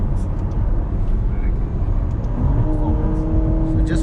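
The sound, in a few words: Ferrari GTC4Lusso T V8 bi-turbo engine growl while driving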